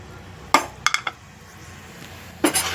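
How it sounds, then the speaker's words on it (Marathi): Varai rice (bhagar) tipped into hot oil in a pan gives a few sharp metallic clinks and scrapes, with a louder rattling burst near the end, close and without talk. "तेल गरम झालं आहे त्याच्यात टाकून देऊ ही वरी तांदूळ"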